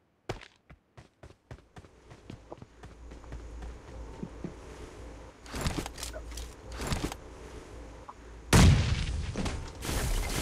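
Grenade going off in a shooter video game: rapid footsteps and scuffling build up, then a single loud, close boom bursts out near the end and rumbles on.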